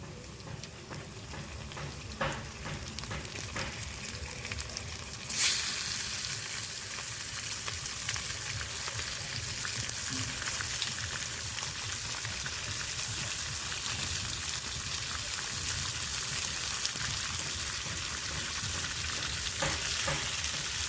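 Meat pieces frying with browned onions in a pan, with a continuous close sizzle and bubbling oil that swells after a sharp clatter as the meat goes in, and occasional stirring scrapes.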